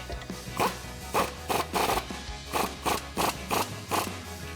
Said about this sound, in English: we can tighten this down with a 18mm on a swivel socket on the nut side and a 15mm wrench on the bolt head side